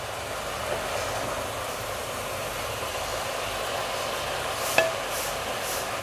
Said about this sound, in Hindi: बैंगन डालने के बाद इसको मैं तेज़ आंच पर इसको इस तरह फ्राई करूँगी जब तक इसका कलर चेंज ना हो जाए